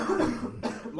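A single cough from a podcast host discussing Souls games, up close over a voice talking, with a short burst partway through.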